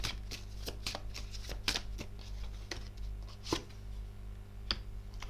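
Tarot cards are laid down one after another on a table, making soft crisp slaps and flicks at an irregular pace over a low background hum.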